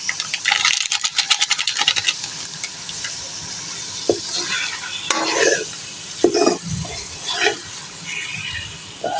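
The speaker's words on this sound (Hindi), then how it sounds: "अब इसमें हम डाल देंगे ये मसाला डाल के भूनेंगे" Spice masala for nihari is fried in a pan, with a constant sizzle under repeated stirring and scraping, scattered clinks and knocks of the spoon against the pot.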